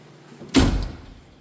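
A BMW E46 car door, window fitted and on a supercharged drift build, swings shut with one solid, close thud that rings out briefly and decays, with no voices.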